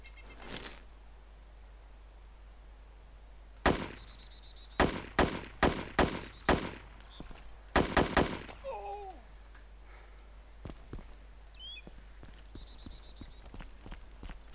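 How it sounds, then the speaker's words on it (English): Gunfire in the video game ARMA 2 DayZ rings out as several loud, sharp bursts of rapid shots with brief pauses between them, followed by quieter stretches. "So I just shot that guy like what, 4 times with this gun?"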